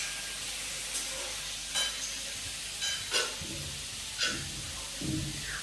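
Paneer pieces fry in a kadai wok with a constant bright sizzle and hiss, broken by several brief louder bursts of spattering as pieces are stirred or added.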